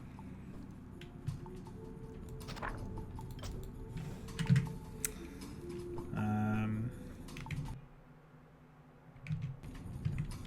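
A player types a cheat code for WarCraft III: Reign of Chaos on a computer keyboard, with sporadic clusters of close, quiet keystrokes and a brief electronic game tone partway through.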